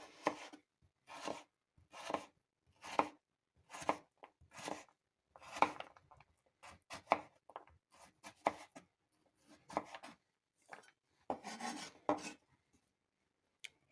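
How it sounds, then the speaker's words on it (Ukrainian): A knife slices potato bars into thin slices on a board, producing a quiet, close series of short crisp cuts in an uneven rhythm separated by brief silences. "І з цього брусочка нарізаємо скибочки"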